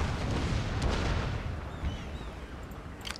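Cannon fire in the samurai-era strategy game Total War: Shogun 2, a dense rumbling barrage of booms and blasts with a few sharp cracks near the end, no talking.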